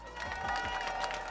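A Gamescom crowd at a Brawl Stars Championship 2024 Last Chance Qualifier event cheers and claps, a dense, roomy roar of many voices, with an announcer's voice mixed in.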